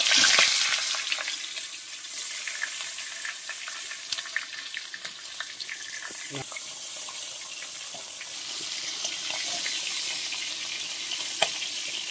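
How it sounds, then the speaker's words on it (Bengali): Fish rubbed with salt and turmeric frying in hot oil, a steady close hiss of sizzling that continues throughout with small crackles and pops, no talking. "তেল গরম হয়ে গেছে, মাছটা দিয়ে দিলাম।"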